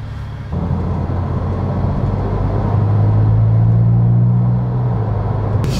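A Porsche 911 Turbo Sport Classic (997) engine starts up and drones steadily as the car drives, its low rumble swelling louder midway before easing slightly.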